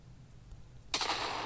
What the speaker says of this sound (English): trigger an explosion